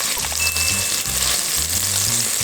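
Beef shank browns in a goulash pot with a loud, continuous sizzle and crackle of frying meat. A low, rhythmic musical bed plays underneath and no one speaks.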